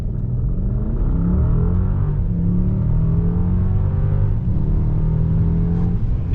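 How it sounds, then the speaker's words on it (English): A 2021 Mercedes-Benz S580 pulls hard under acceleration, its engine a steady, loud low rumble with rising harmonic sweeps as it climbs through the gears, heard from inside the quiet cabin with no talking. "It feels so weird to accelerate so quickly in something this large and cocooned."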